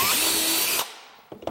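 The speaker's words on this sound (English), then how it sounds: "Now let's drill the other side of the cabinet." A power drill whirs loudly at high speed as it bores into the wooden side of a step-back cabinet, then cuts off, followed by a few light knocks.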